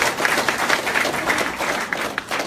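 Large crowd of over 20,000 people applauding at a graduation-style event, a dense steady wash of clapping close and loud throughout with no talk.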